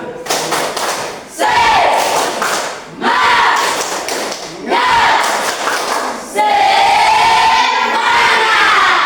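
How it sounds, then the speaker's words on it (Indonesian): A classroom of students performs a rhythmic spirit clap in four bursts of loud, close clapping and thumping, with a teacher's voice leading between rounds and cheering voices mixed in. "Tepuk semangat."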